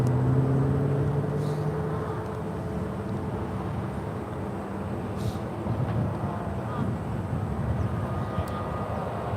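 An Alaska A321neo airliner taxiing and lining up on runway 1 right at SFO, a steady engine whine and broad rumble holding throughout, with faint voices mixed in.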